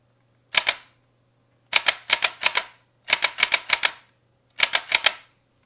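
P99L light gun firing with a recoil mechanism, producing sharp mechanical clacks in quick bursts of two to five, each burst separated by a pause, loud and close with nothing else audible.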